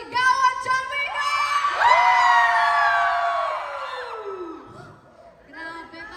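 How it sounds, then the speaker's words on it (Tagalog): A large concert crowd at a music festival roars with long, loud screams and cheers that swell and hold for several seconds, then fade briefly before rising again. "Isa namang napakalakas na sigawan"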